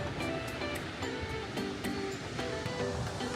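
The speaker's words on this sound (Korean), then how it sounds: "지금 바다를 보면 파도가 되게 세거든요." Strong sea waves crash and wash continuously along the rocky coast near Ulleungdo, a loud, dense roar of surf with repeated breaking surges and no voices.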